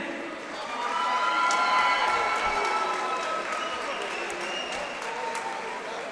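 Spectators at an amateur lightweight boxing event in Boxpark applaud and cheer the fighters, a sustained crowd roar with scattered claps and whistles that swells early and holds steady in a large room.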